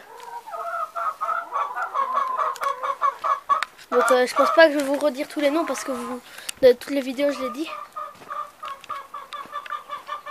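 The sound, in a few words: bantam hens clucking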